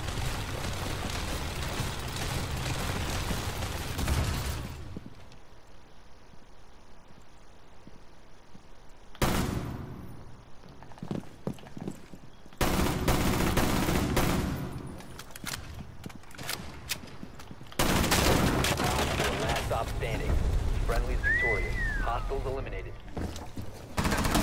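Bursts of gunfire shooting through a wall in Rainbow Six Siege, sharp clustered shots in several volleys separated by quieter gaps, mixed with in-game clatter.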